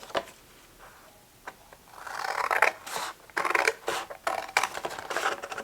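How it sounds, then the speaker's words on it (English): Scissors snip through cereal box cardboard along a creased fold, a run of close, crisp crunching cuts that start after a quiet opening and continue in steady bursts. "I'm going to come back and actually cut along that line"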